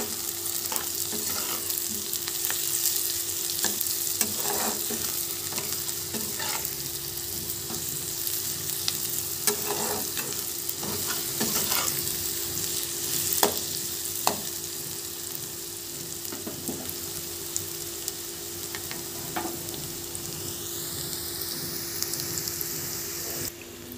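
Onions with a teaspoon of sugar sizzle steadily in a pan for a spicy chicken kasha, with repeated scraping stir strokes and soft clinks spread evenly over the whole stretch.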